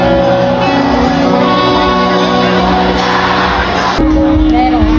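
A crowd at an outdoor concert in Moalboal, Cebu, shouts and whoops in a loud steady roar that carries on throughout, with amplified sound and voices mixed in.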